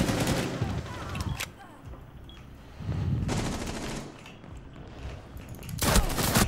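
Rapid bursts of automatic gunfire in a Rainbow Six Siege match, three loud rattling volleys separated by short pauses, the last one closest and heaviest.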